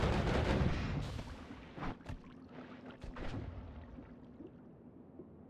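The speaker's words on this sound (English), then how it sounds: "I feel like it might be a bigger explosion." An explosion in the video game Noita, a loud burst at the start that decays into a crackling, rumbling tail, followed by a few sharper pops and bangs fading out.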